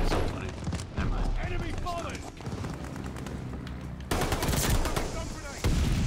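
Pistol fire rings out in the video game Call of Duty Vanguard, a quick burst of loud, close shots cut among game sounds while a player talks.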